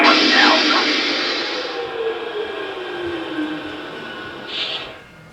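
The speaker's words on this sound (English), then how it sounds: "We'll go ahead and stop this locomotive. We'll go through the shutdown sequence." An SD70ACe model locomotive runs its shutdown sequence, with a loud steady diesel-like drone and a falling whine that slowly fade and wind down, a short tonal blip near the end.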